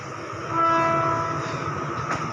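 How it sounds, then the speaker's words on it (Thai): A Thai rapid passenger train, number 112, sits stopped at a station. Its engine rumbles loudly nearby, steady tones ring out over it, and a short sharp burst comes near the end. "รถไฟไทยยังจอดเลยท่านผู้ชม"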